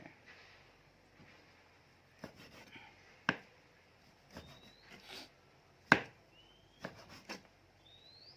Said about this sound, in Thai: มีดผมไม่คม หรือว่าผมหั่นไม่เป็น